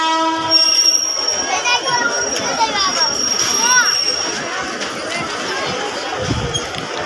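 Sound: train being moved backwards at railway station

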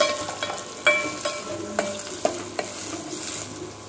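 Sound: onion, potato and carrot sautéing in a pan

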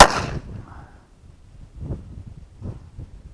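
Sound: Smith & Wesson Model 422 pistol firing a shot

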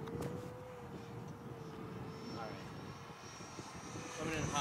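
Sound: E-flite Viper 70mm EDF model jet flying

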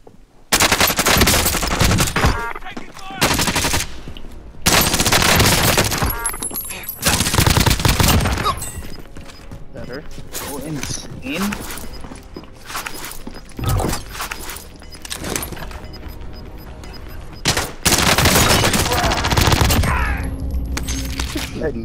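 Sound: gunfire in a video game survival mission

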